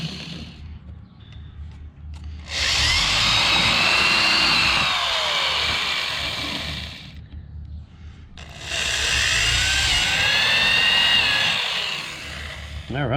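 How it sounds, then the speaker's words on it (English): A power drill whines loudly drilling holes in metal in two long bursts, pausing briefly between them, close and steady with a high grinding pitch, on a 1964 Jaguar MKII front seat back. "drill those holes"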